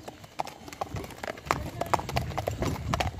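Horse hooves clip-clopping at a brisk, steady rhythm, fairly close, with faint background noise.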